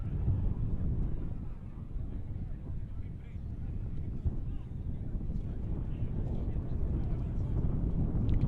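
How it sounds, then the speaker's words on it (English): Wind gusts outdoors at a football stadium during the Anguilla vs Suriname Concacaf World Cup qualifier, making a continuous low, blustery roar that buffets steadily throughout. "You can hear that wind gusting in the background."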